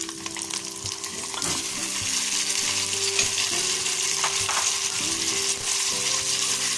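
Chicken pieces sizzle and fry steadily in a hot pan with fried paste, with occasional stirring clatter, close and continuous without any talking.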